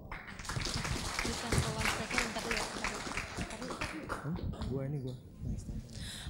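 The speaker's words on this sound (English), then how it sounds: "Please give them a round of applause again." Audience applause at a conference plenary session: a dense, steady wash of many hands clapping that fills the room for several seconds, with a voice talking over it and the clapping thinning out near the end.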